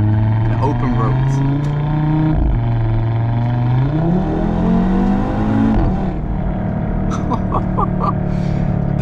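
A 2015 Audi RS3 with its 2.5 TFSI five-cylinder engine pulls hard from inside the cabin, its loud exhaust droning and rising through gears with brief dips at the shifts, a voice talking over it.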